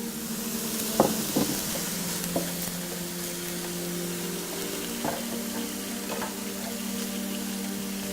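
Marrow bones brown in a hot pan, a constant close sizzle with a few scrapes and knocks from stirring, and no voices over it.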